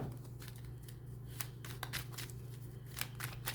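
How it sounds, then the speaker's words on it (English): A deck of tarot cards being cut and shuffled, with several crisp riffling and slapping bursts over a steady low hum, close and fairly quiet. "I'm just cutting the cards."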